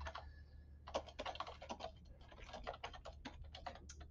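Someone types on a computer keyboard while entering markdown notes in Google Colab, with quick, uneven key clicks and brief pauses, close and fairly quiet with no talking.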